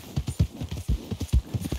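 Horse hooves clip-clop at a steady walking pace, about ten close, even hoofbeats with a soft thud on each step, heard on its own in the Red Dead Redemption 2 video game.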